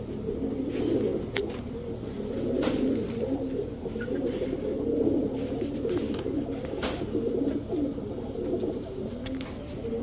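Pet pigeons, a male and female pair, coo in low, rolling, repeated calls close by, layered together steadily with occasional faint chirps and clicks in the background.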